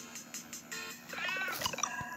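A cat character in the video game Super Cat Tales 2 gives a short, faint meow near the end, following a few soft game blips.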